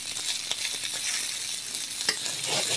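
Seitan browns in a hot pan with a steady, hissing sizzle and a few soft scraping stirs. The frying sounds close and constant, with no voices.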